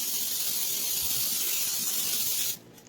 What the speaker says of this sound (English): we are going to take our baking sheet and we are going to spray it with our cooking spray